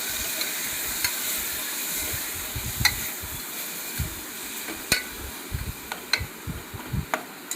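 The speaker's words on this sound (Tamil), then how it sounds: "அதனால் நல்லா வதக்கணும் சிக்கனை." Chicken sautés in a pan with onions for a Tamil chicken gravy, a soft continuous sizzle under occasional sharp clicks and scrapes of a spoon stirring, close and fairly quiet.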